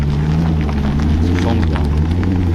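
A matte grey Maserati at a car meet gives off a loud, continuous engine rumble with a rough, growling texture, heard close, while voices talk over it.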